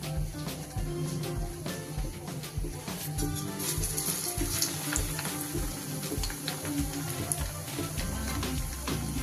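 Bread sandwich chops frying one at a time in oil over medium heat, a steady crackling sizzle with watery bubbling that runs throughout, close and fairly even with no voices.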